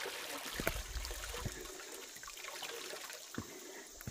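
Flowing mountain river water and a waterfall on a trek to a cave, heard as a steady broadband rush with faint splashing, moderately distant and continuous, with no talk over it.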